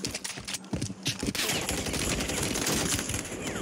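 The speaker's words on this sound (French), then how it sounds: "On me tire dessus." Rapid automatic gunfire in a shooter video game, a dense clatter of bursts building into a sustained volley at moderate level with no talk over it.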